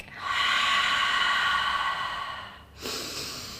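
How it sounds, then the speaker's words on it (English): A breathing cue during a beginners Pilates workout: a long, airy breath close to the listener that slowly tapers, then a short, sharp second breath, with no speech over it. "it's a very short breath in through the nose and a deep sigh through the mouth"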